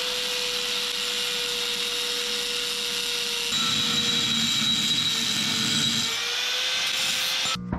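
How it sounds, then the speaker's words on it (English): A power tool cutting an exhaust pipe on a Nissan Hardbody mini truck, a steady high-pitched whine that deepens and grows louder partway through as the cut bites, then ends abruptly. "I'm gonna shorten this little piece of my exhaust pipe a little bit"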